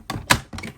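A handheld paper trimmer slices through cardstock in a papercraft setting, giving two or three short, crisp clicking and swishing strokes close by, with no voices.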